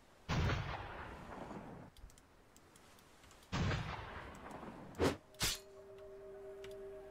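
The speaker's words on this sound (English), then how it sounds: "Can't even aim this cannon." A cannon in the Roblox game Deepwoken fires twice with booming blasts that roll off over more than a second, followed by two sharper, shorter bangs and a faint lingering tone, with no voices.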